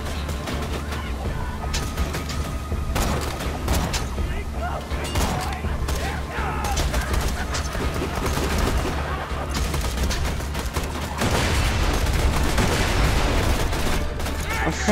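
Video game gunfire crackles throughout as repeated shots and bursts over a constant rumbling bed, with a voice talking over the action.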